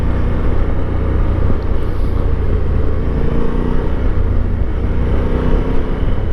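A 2024 Honda Africa Twin Adventure Sports motorcycle being ridden, its engine a steady loud drone mixed with heavy wind rush, constant throughout with no talking.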